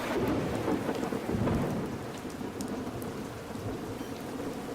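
Heavy rain pours steadily while low thunder rumbles, loudest early on, then settles into a constant dense downpour hiss with no voices.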